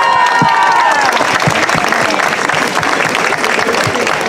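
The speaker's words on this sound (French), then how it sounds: "On peut l'applaudir." An outdoor crowd at Montmartre's grape harvest festival breaks into dense, loud applause, many hands clapping continuously with a few cheers and voices mixed in.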